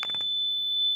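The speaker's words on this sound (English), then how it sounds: "Hope you can hear the buzzer sound." A PLC-controlled buzzer gives a steady, loud, high-pitched electronic tone that holds without a break, with a few faint knocks at the very start.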